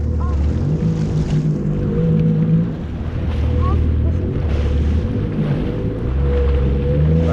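A jet ski engine drones loudly and steadily on the sea off Turkey, with wind and water noise around it and a brief dip in throttle partway through.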